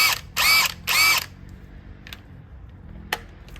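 A ratchet or impact tool drives the crank bolt on a 100 Series Land Cruiser in two loud bursts of rapid clicking, followed by a few faint mechanical clicks.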